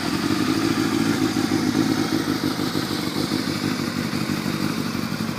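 A 2002 Yamaha YZF600R with a carbureted inline four-cylinder 600cc engine runs at a steady idle, giving a close, even mechanical drone with light clatter and no voices.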